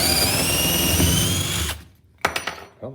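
A 21V cordless drill/driver hammer drill bores a hole with a 1/2 inch spade bit under heavy pressure. Its loud, steady motor whine runs for nearly two seconds, then cuts off, followed by a few sharp clunks and knocks.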